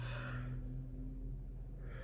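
One long, breathy yawn up close, rising and fading over a steady low hum, with no talking.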